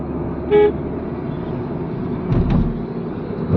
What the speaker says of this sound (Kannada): ಹಾರನ್ ಮಾಡಿ